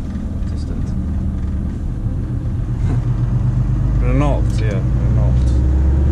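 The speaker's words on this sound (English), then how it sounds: "Look at this van coming, that looks badass." A Renault Trafic van driving past on a city street, a loud steady engine and road rumble building toward the end, heard with talking voices over it.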